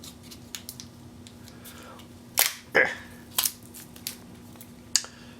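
Cardboard packaging around an old capacitor is torn and pulled open, sharp rips and crackles scattered across several seconds over a low electrical hum, with pauses between the louder tears.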